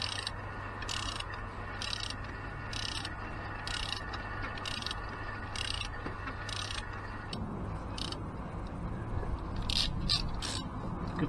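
A 36mm socket and ratchet slacken the oil drain plug on a Range Rover L405, giving steady mechanical scraping and ratcheting clicks up close, repeating in regular bursts throughout.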